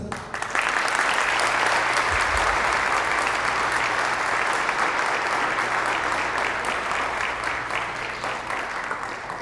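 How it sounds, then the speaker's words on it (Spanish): Sustained audience applause at a Catholic charismatic renewal conference, loud and dense from start to finish in a large hall, with a low hum running underneath and no speech over it. "Ese aplauso fue para el Padre."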